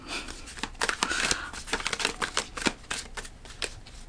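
Tarot cards being shuffled by hand, a run of quick papery riffles and flicks with irregular bursts of crisp card-on-card slaps, close and fairly quiet, with no talking.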